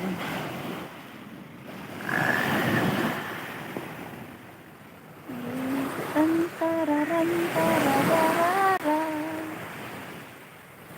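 Waves wash and surge against a windy seashore, the sea rough with strong waves, gusts buffeting the microphone; a person hums or sings a tune over the surf partway through.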